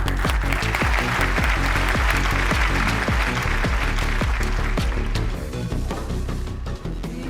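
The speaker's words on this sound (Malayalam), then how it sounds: "നല്ലൊരു കൈയടി കൊടുത്തേ" An audience at a fan meet breaks into loud, sustained applause, dense clapping from many hands that carries on evenly and thins slightly toward the end.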